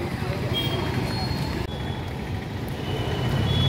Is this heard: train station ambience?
yes